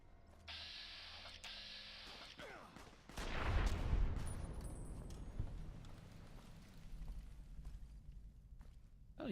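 Gunfire in Fallout New Vegas: a burst of shots rings out around the middle, followed by a rattling, trailing din of scattered impacts and movement, fairly close, with a faint voice in the background.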